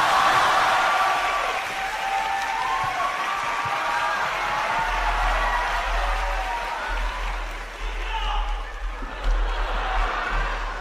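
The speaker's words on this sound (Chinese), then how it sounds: "掌声有请" An audience claps and cheers at a Deyun She crosstalk show in Harbin, welcoming performers Zhang Helun and Lang Heyan; the dense applause runs throughout, with voices talking over it.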